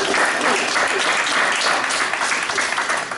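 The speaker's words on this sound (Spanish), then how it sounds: "Den un aplauso al Señor." A church congregation applauds in a dense, loud, continuous wash of clapping that fills the whole moment without pause.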